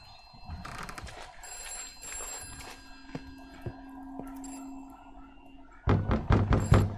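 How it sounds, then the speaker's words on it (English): A telephone rings in a scary video game, with repeated bursts of ringing heard amid thumps and knocks, followed by loud clattering footsteps near the end. "Someone's bloody calling on the phone again."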